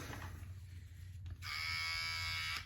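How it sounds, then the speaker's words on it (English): An electric beard trimmer switches on and runs with a steady, close, bright buzz for about a second and a half, following a quieter stretch of faint handling. "So I need to kind of get a mark, get my trimmer."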